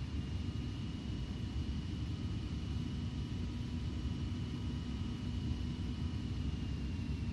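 Boeing 727 engines rumble while the jet taxis in Flight Simulator X, giving a steady, low, hissing roar with a faint whine on top, moderately quiet and continuous, with no talking.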